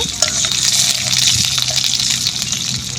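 Garlic, curry leaves and tempering seeds sizzle in hot oil while a spoon stirs the pan, a steady close frying hiss with soft scraping throughout.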